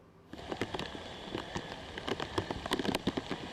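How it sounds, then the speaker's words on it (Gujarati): Heavy monsoon rain pours down steadily on Ahmedabad streets and rooftops, a dense, close hiss of drops patterned with sharper taps and splashes, with no voices. "આગાહી વચ્ચે અમદાવાદમાં મેઘરાજા ધોધમાર વરસી રહ્યા છે"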